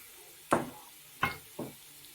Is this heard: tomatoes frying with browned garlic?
yes